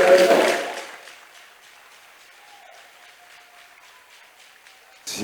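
Applause from a church congregation at a preaching service, loud and dense at first, then fading quickly to a quiet room tone, with another brief burst at the very end.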